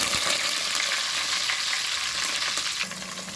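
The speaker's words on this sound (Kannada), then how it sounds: "ಈರುಳ್ಳಿಯನ್ನು ಹಾಕ್ಕೊಂಡಿದ್ದೇನೆ ಸ್ವಲ್ಪ ಈರುಳ್ಳಿ ಕಲರ್ ಚೇಂಜ್ ಆಗಲಿ" Onions fry in hot oil with mustard seeds, garlic and curry leaves for a bitter gourd curry, giving a loud, dense, steady sizzle close up that eases slightly near the end.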